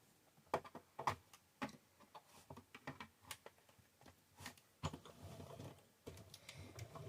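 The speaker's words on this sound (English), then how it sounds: "run it through the die cut machine" Paper shapes fed through a die cut machine while making a Christmas card, giving a run of sharp mechanical ticks and clicks with irregular spacing, fairly quiet and close, with no talking.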